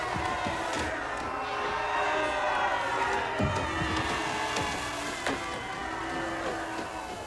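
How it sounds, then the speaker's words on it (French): A crowd cheers a wrestler's entrance at a wrestling match, steady broad cheering and clapping with sharper bursts scattered throughout, fairly loud and continuous. "Applaudissez-le!"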